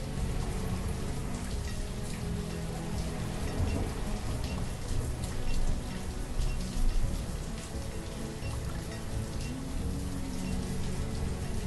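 Heavy rain pours down steadily in the village-building game Banished, a loud, dense wash of drops with low rumbles of thunder beneath, continuous throughout.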